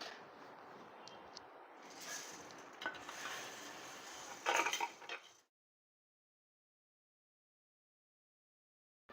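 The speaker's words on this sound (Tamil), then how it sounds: "பொரிச்சு வச்ச பூந்திங்க இது அப்படியே போட்டு கிண்டி விட்டுருவோம்." Fried boondi is stirred into boiling sugar syrup in a pan, with soft bubbling, scraping and a few clinks of the spoon for about five seconds before the sound stops.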